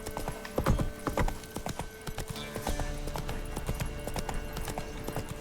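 Horse hooves clip-clop in a steady rhythm as a mount is ridden in the video game The Witcher 3, close and clear with light game ambience and a brief whinny.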